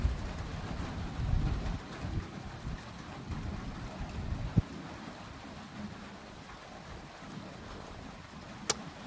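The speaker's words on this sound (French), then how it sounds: "Enfin les orages, je sais pas combien il y en a là." A thunderstorm with heavy rain outdoors, a steady wash of rain under low rumbling thunder, with a sharp crack near the middle and another toward the end.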